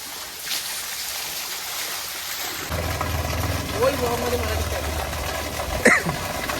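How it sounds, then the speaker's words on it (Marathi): Fast-flowing water at a homestay bathing spot on the Konkan coast rushes as a steady broadband roar that grows fuller partway through, with faint voices in the background. "भाई इतका फास्ट फ्लो आहे ना पाण्याचा"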